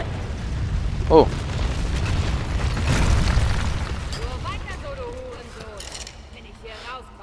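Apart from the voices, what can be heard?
explosions in the video game Tomb Raider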